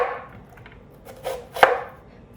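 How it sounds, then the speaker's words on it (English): A knife slices thinly through one whole large onion on a cutting board, its root end left intact. A few soft cuts come first, then two sharper, louder chops close by, with no talk. "leave this root end intact because it's gonna keep the onion together as you're slicing it"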